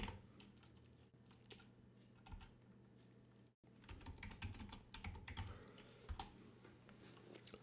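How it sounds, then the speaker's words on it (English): Fingers patter steadily on a computer keyboard in quick, uneven bursts of close key clicks, broken by one brief pause midway. "I'll just type it."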